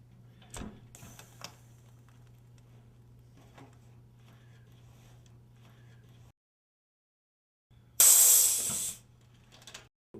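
An air-powered carpet stretcher, the Air Mini Stretcher MS-2000, runs on carpet with a low steady hum and faint ticks, then falls silent before a loud burst of hissing air about a second long.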